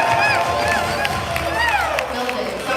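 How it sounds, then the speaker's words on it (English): Applause and cheering from guests at a wedding reception after a choreographed dance performance. A dense, continuous crowd sound runs throughout, with whoops and shouts rising over it. "let's get another round of applause for that"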